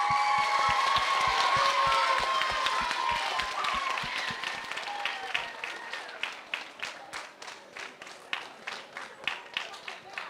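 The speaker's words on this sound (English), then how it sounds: "Can we give a round of applause to Willie Wolverine as a thank you?" An audience at a school opening ceremony applauds, starting as a full, dense round of clapping with voices mixed in, then thinning into a few scattered individual claps that fade out.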